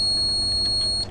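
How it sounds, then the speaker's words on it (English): Alarm buzzer of an Eliwell ID974 refrigeration controller on a chiller or freezer, sounding as a steady, fairly loud high-pitched tone that holds throughout and breaks up slightly at the very end. "to silence, just press any key and the buzzer off"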